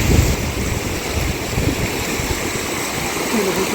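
Steady rushing water fills the clip, a continuous broadband wash like a stream flowing nearby, loud and unbroken with no voices.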